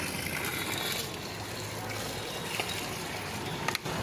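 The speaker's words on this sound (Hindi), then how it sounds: "ठंडा पानी भर लेते हैं पहले।" Cold drinking water gushes steadily into a container outdoors, a continuous rushing pour with faint background noise and no clear speech.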